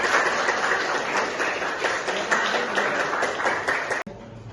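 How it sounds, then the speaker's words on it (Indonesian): Classroom applause from students, a brisk burst of clapping hands that fills the room for about four seconds before cutting off sharply, with faint voices underneath. "tepuk tangan untuk Azril"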